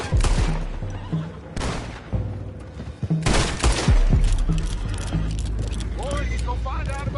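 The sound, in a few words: gunfire during ambush in video game Red Dead Redemption 2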